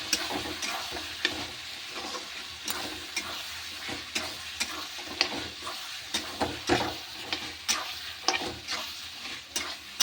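Ginger, garlic, cumin and a spice paste fry in a pan with a close, crackling sizzle, cut by frequent sharp clinks and scrapes of a spatula stirring.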